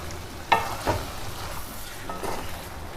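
Cauliflower being stirred into chicken curry in a pan, with a few distinct scraping stirs and a low sizzle underneath, close and moderately loud, no talking.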